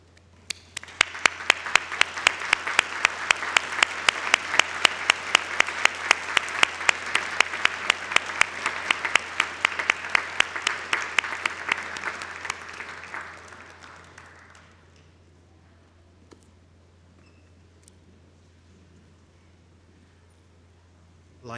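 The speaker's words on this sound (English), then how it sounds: "thanking your families and friends with a round of applause" A large audience at a university graduation ceremony claps in a dense, loud round of applause that holds for about twelve seconds, then thins out and fades to near silence.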